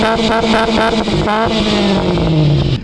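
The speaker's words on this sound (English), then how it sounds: "right now I'll be starting the vehicle and showing you the header sound of the vehicle" A 2005 ex-army Maruti Gypsy engine with a custom-made header exhaust idles and blips loudly, throaty and rumbling close by with repeated rises in revs.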